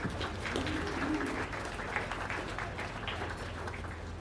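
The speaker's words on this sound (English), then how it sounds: "So let's give these young people a round of applause" A crowd at a county fair beef show claps for young cattle exhibitors, a steady, even patter of applause that holds throughout without a break, with faint background noise under it.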